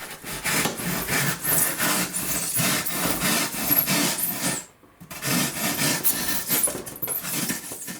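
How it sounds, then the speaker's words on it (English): A block of 10 cm thick foam board is trimmed with steady, close scraping strokes, a loud rhythmic rasping that pauses briefly midway before resuming. "I trim the foam block"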